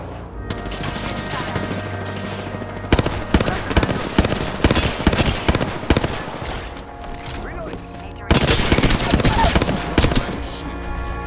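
Apex Legends gunfire: dense bursts of automatic weapon shots crackle loudly and repeatedly in a hectic battle, with heavy volleys near the start and again toward the end, mixed with game effects and occasional voice.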